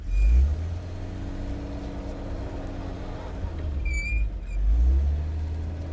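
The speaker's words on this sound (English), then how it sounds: "This is a running, driving 1953 Chevrolet 3600 truck" The engine of a 1953 Chevrolet 3600 truck runs close by with a low rumbling idle, rising into two heavier revs at the start and end, with a short squeak in between.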